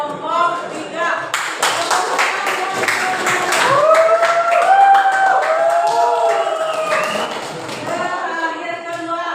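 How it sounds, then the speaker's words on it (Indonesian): Students in a classroom applaud a student group returning to their seats, steady scattered clapping with thumps of movement and lively children's voices talking over it for several seconds. "beri tepuk tangan untuk kelompok 3"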